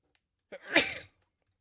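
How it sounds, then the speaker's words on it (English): A single sharp sneeze close to the microphone, a quick inhale followed by a loud burst, then silence. "Sneezing."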